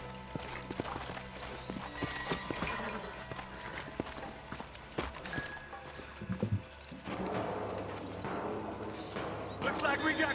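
Horses' hooves clop in the Western video game Red Dead Redemption, a quiet, irregular run of hoof strikes mixed with snorts and game sounds, while characters talk over parts of it.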